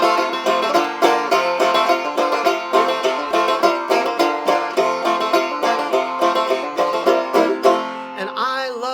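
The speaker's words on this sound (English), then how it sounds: "I'm gonna play the banjo." Banjo played solo, bright plucked notes in a steady, bouncy rhythm, close and clear with no talk over it.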